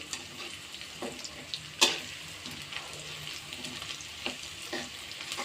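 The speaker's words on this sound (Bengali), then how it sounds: "এখন কিছু টাইম 1 মিনিট ভেজে নিব একটু" Whole garam masala, black pepper, bay leaf, cloves and cinnamon fry in a pot for khichuri, giving a soft, steady sizzle with a few sharp clicks and stirring scrapes, close and with no voices.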